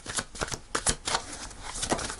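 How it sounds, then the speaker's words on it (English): Tarot cards being shuffled by hand in quick, papery riffles and slaps, close and moderately loud, with an uneven rhythm and no talking. "So I'll do a couple more shuffles."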